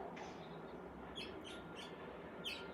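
Birds chirping outdoors around a bird feeder, a few short faint tweets scattered over a quiet, steady background hush.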